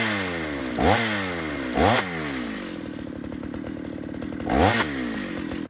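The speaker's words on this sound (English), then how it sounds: "see what happens when you rev the saw?" A chainsaw is revved up three times, its pitch sweeping sharply upward with each burst before dropping back to a steady, rattling idle between revs; the engine is close and loud throughout.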